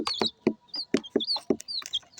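Close, rapid high-pitched peeping of young poultry chicks, mixed with short low clucks in an uneven, repeating rhythm.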